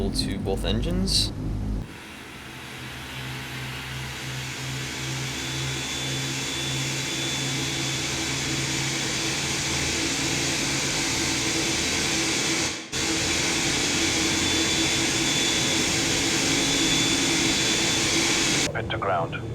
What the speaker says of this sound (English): Now we'll give fuel to both engines.